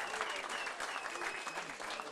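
A crowd at a spring festival gives a singer a rousing round of applause, continuous dense clapping heard at a moderate distance with a voice speaking faintly underneath.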